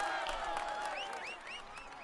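Crowd applause and cheering from the Tour de France 2016 video game, a steady wash of clapping at moderate level.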